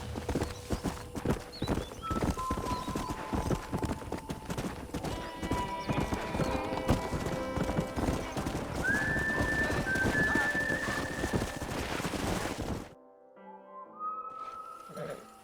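In the video game Red Dead Redemption, hooves clop in a rapid, steady rhythm while a stallion whinnies once midway, then the galloping cuts off into quieter ambience.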